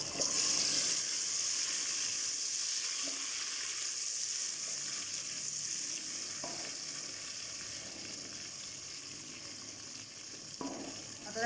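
Halved tomatoes fry in oil with browned onions and spices for a breakfast of chickpeas, a steady close sizzle that runs throughout. A few faint clinks break in, and no one speaks.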